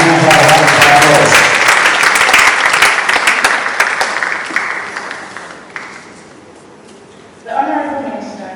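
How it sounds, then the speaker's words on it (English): A summit audience applauds the convener in a sustained burst of clapping, loud at first and gradually thinning, with voices mixed in and a fresh swell of applause near the end. "let's give a round of applause to our convener"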